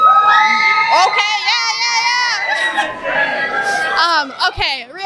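A studio crowd cheers and shouts in a loud, lively burst, mixed with chatter and laughter, while a voice talks over the top.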